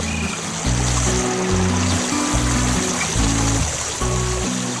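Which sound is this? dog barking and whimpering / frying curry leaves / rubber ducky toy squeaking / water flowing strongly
water flowing strongly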